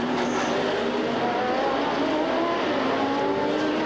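Jaguar sports racing car driven by Doc Bundy, its engine howling loudly and steadily as it races past, with high rising and falling engine tones and no speech.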